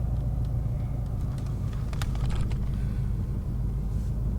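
Low steady engine rumble from a manual car creeping along in second gear with no throttle, heard from inside the cabin, a few faint clicks and no talking.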